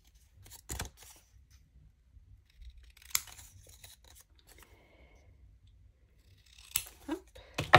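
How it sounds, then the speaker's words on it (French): Scissors bevelling the corners of a paper gift bag, a few sharp, separate snips spaced seconds apart with light paper rustles between, close and clear in a quiet room. "on va venir les biseauter. Biseauter les coins."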